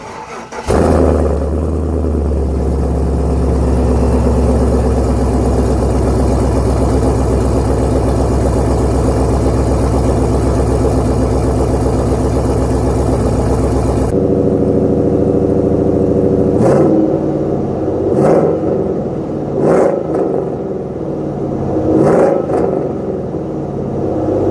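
A 1992 Chevrolet Silverado with a swapped 5.3 LS V8 and new exhaust runs loud and close with a deep steady idle for several seconds, then drops to a quieter burble punctuated by sharp throttle blips.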